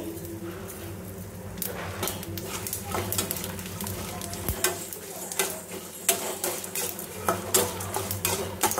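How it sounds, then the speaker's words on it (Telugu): Eggplant fries in a pan with sesame seeds and dried red chillies, a soft sizzle broken by frequent sharp scrapes and clinks of a spatula stirring against the pan, close up. "ఫ్రై చేసుకోవాలి మంచిగా"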